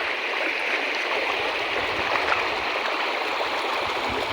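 Rainwater from heavy rain rushes like a stream through flooded paddy fields, a steady, continuous gurgling wash heard up close with no voices.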